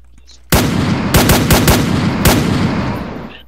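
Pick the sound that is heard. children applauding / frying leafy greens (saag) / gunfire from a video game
gunfire from a video game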